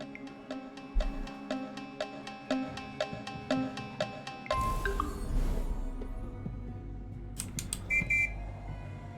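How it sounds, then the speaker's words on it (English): A cute police noise from the god-game The Universim, a rapid run of short bright electronic beeps followed by a burst of busier game sounds and a few more tones, no talk. "I maintain that the, like, police noise is adorable."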